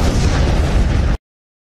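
A suicide bomber's vest detonating in a crowd, a single loud, dense blast that holds for about a second and then cuts off abruptly into silence.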